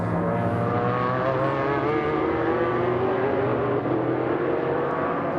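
Race cars and GT cars lap Daytona's West Horseshoe and banking during the 2005 Rolex 24, their engines a loud, continuous, layered drone that holds steady throughout with no voices.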